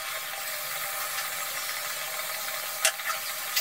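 Moong dal stirred into a fried spice mix, a continuous bright sizzle with a sharp scrape of the spoon near the end, close and with no voices.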